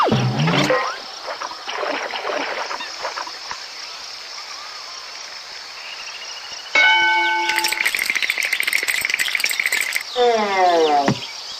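A bell chimes in the Pink Panther's Passport to Peril video game, a clear ringing tone of stacked harmonics that rises over the game's background of water and bird ambience, with a sweeping whoosh following soon after.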